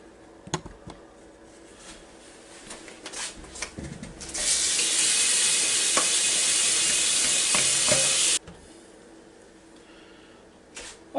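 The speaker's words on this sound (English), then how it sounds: "take this over here to the sink and rinse it off a couple of times" A kitchen sink tap runs at full force for about four seconds, a loud steady gush as cauliflower is rinsed, with clatter and handling noises before and after.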